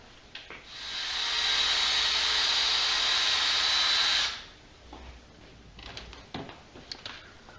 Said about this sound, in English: you pull it taut and run the drill.